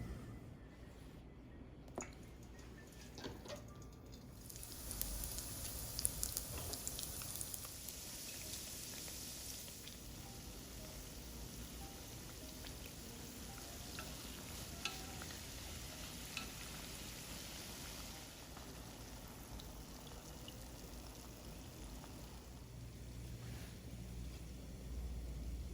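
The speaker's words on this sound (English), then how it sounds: "Fry both sides in vegetable oil at" Vegan donut dough frying in vegetable oil at 160 degrees Celsius gives a steady, soft sizzle and bubbling that runs throughout, with occasional light clinks and handling noises over it.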